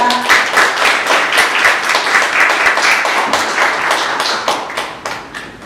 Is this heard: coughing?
no